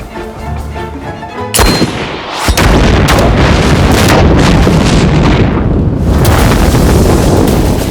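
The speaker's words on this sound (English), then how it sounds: "If that dynamite catches, he'll blow it all to bits." Dynamite detonates in a loud, close blast that erupts into a sustained roaring rumble of debris and noise lasting several seconds.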